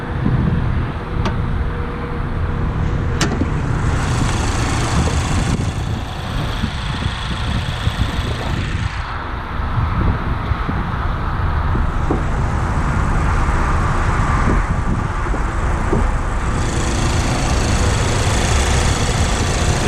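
A 2020 Mazda MX-5 Miata convertible's 2.4-liter four-cylinder engine running with the hood open, a steady close idle rumble with faint clicks and slight shifts in tone throughout.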